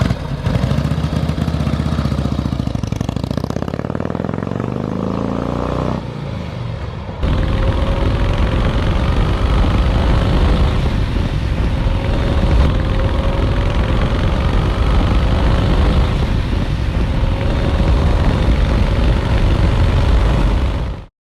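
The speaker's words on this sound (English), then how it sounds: "I'm going to pull away and go up and down the block for you a couple times." A 1951 Harley-Davidson Panhead motorcycle pulls away in first gear and rides up and down the block, its engine a steady loud rumble that rises as it shifts and accelerates, then cuts off at the end.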